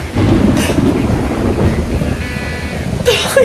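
Thunder rumbles through a rainstorm at a flooding home, a loud low continuous roll with rain noise, joined by brief bursts of noise near the end.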